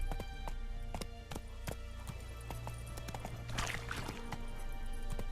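Horse hooves clip-clop in a steady galloping rhythm in The Witcher 3 video game, close and continuous over a low rumbling ambience, with an occasional whinny.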